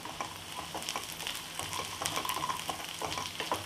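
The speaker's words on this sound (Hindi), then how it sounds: "और फिर 1 मिनट तक सॉटे करेंगे। साथ में हम डाल देंगे इसमें हरी मिर्च, जो हमने बारीक हरी मिर्च काटी है।" Chopped green chillies sautéing in a hot pan for a Mumbai-style kanda poha breakfast, giving a steady close sizzle with frequent small crackles and occasional stirring scrapes, and no voices.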